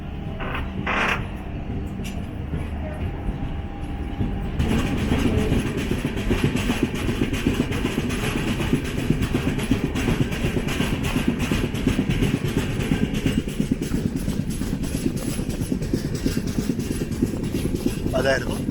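A BEML-built MEMU train in Northern Railway markings, the Yesvantpur–Hosur service, rumbles and creaks steadily past near Carmelaram station, heard from aboard an express with broadband rail noise throughout and some talk.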